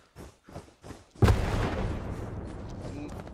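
Gunfire aimed at a church in the World War II shooter Hell Let Loose: a few soft thumps, then a loud sharp blast followed by a long rolling, crackling burst of shots that fades slowly.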